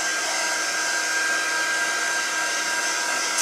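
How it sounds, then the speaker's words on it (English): A hair dryer blows steadily on drying chalk paste, a loud, constant whooshing whine held close without pause or talk. "You can use a hair dryer to do this."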